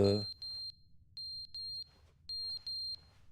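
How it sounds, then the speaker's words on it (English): Repeated electronic fire alarm beeps in The Stanley Parable: Ultra Deluxe, sounding in short pulsed pairs and triplets with gaps between bursts, clear and fairly loud over a quiet low background. "the fire alarm. Is it burning somewhere?"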